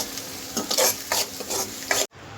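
Chopped onion and cumin seeds fry in hot oil as a spoon stirs them, producing bursts of sizzling and scraping against the pan, close and moderately loud, ending abruptly.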